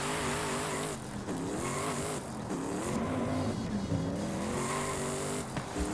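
A diesel-swapped Mustang launches in Forza Horizon 5, its engine roaring and revving hard over sustained tire squeal as it slides, loud and close with gear-like pitch shifts throughout.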